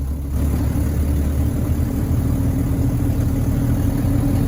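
A 1983 Chevy C10 Custom Deluxe pickup engine idles steadily just after starting, a loud, close, continuous low rumble with an even churn and no voices over it.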